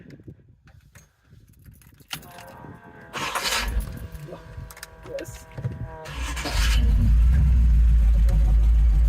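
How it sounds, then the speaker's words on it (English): A 1932 all-steel Ford Vicky hot rod with an LT1 engine cranks over with clicks and a jangle of keys, then catches and settles into a loud, steady, deep idle that dominates the end, with someone talking briefly before the start. "Fire it up for you real quick."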